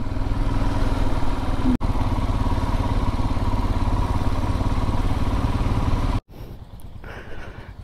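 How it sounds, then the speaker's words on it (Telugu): A motorbike ridden along a road right beside the beach and sea gives a loud, steady engine drone with a brief dropout, then cuts to a much quieter rumble near the end. "బీచ్కి పక్కనే, సముద్రం పక్కనే రోడ్డు, ఆ రోడ్లోనే నడుపుతున్నాం బైక్."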